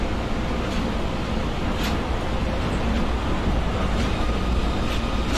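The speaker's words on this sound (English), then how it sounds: "First time on a monorail?" Riding a monorail train in Osaka gives a steady broadband rumble and hum of the car in motion, loud and enveloping, with a few faint creaks and clicks.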